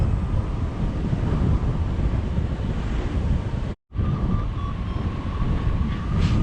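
Wind roars steadily across the microphone during a spring hang gliding flight near a peak in New Zealand. The loud, unbroken rush drops out for a split second midway, with no talk.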